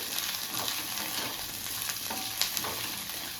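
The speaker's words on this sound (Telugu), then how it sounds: "అలాగే కొంచెం కరివేపాకు కదుపుతూ వేగనివ్వాలి." Onions, green chillies and curry leaves fry in hot oil while being stirred. They give a steady crackling sizzle with occasional scraping stir sounds on top, close and moderately loud, with no talking.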